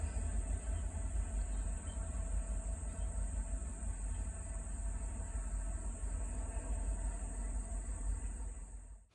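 A short Norfolk Southern eastbound train passes in rural Virginia, a steady low rail rumble with a high whine and insect chirps over it, fading at the very end.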